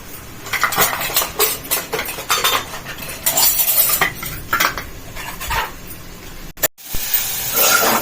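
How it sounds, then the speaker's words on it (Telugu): Metal pots, bowls and a ladle clank and scrape repeatedly in a home kitchen while breakfast and lunch are cooked, with carrots boiling and vessels being cleaned, the close, busy clatter continuing throughout. "ఇలా గీకుడు సౌండ్ కలిపే గిన్నెల సౌండ్ బాగా వస్తుండొచ్చు."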